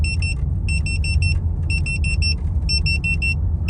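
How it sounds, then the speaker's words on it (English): Near a factory, an air quality detector alarm beeps in rapid bursts of four to five shrill electronic tones, repeating with short gaps over a low, steady background rumble. "My detector just started going crazy."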